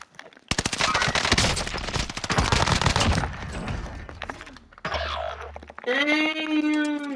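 Rapid video game gunfire rattles in a dense, sustained burst for a few seconds, followed by scattered shots and game effects, with a player's voice briefly heard.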